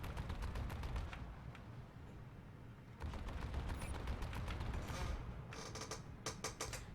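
Enemy turrets in the Comanche helicopter game fire a steady barrage of shots, rapid crackling bursts with a dense rumbling backdrop, loud and continuous with sharper clustered volleys near the end.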